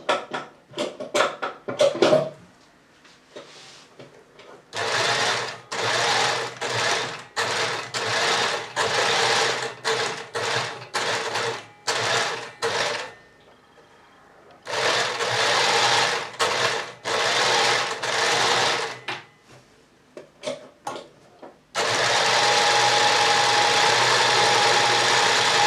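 Close and loud, a sewing machine stitches the pleats of a box pleat skirt in bursts of fast whirring, broken by short pauses and stop-start taps, ending in one long steady run.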